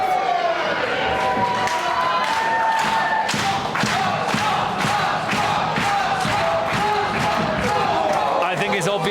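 Crowd at a live wrestling match in Weymouth cheering and shouting over repeated thuds of bodies hitting the canvas, loud and continuous, with a commentator talking over it.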